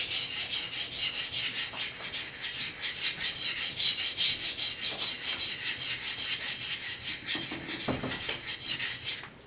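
Steady back-and-forth rasping of a knife edge being sharpened freehand on a coarse DMT diamond plate, the strokes repeating in a quick, even rhythm, close and fairly loud with no talking.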